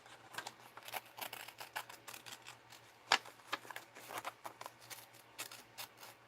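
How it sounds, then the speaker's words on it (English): Scissors fussy cutting paper for a mixed-media art journal, a close run of quick crisp snips and rustles in uneven rhythm, with one sharper snap midway. "I can use this part of my scissors rather than the point."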